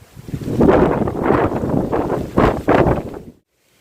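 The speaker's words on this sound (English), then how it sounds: "Look how windy it is." Strong wind roars and buffets the microphone in continuous broadband gusts for several seconds, then cuts off abruptly.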